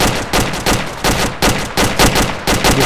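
Rapid bursts of gunfire in a military video game, loud and close, arriving as repeated volleys about every third of a second with no talk over them.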